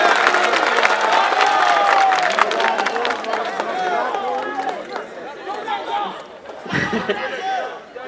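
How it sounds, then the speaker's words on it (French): Audience applause and cheering at a student welcome-day speech, loud at first under crowd chatter, then thinning out with scattered claps and voices. "Applaudissez-vous afin que je puisse continuer."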